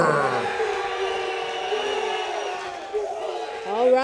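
At an MMA fight night, an arena crowd roars and cheers in a continuous loud swell, with shouts and whoops carrying across the hall.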